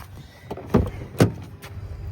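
Power window on the rear door of a Ford Expedition SUV being lowered, a soft motor whir with two brief louder clunks as the glass moves, close and fairly quiet.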